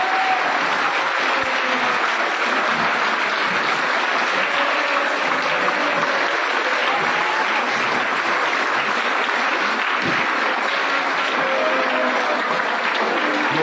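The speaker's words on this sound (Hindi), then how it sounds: "मेहमान का तालियों की गूंज में इस्तकबाल" Sustained dense applause from a university audience welcoming a guest of honour, steady and full throughout with no speech over it.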